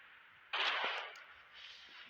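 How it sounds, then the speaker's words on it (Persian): A single gunshot in a video game, one abrupt burst midway that fades over about a second, followed by a faint lingering echo against a quiet background. "یک شلیک درجه یک خورد تو شونش."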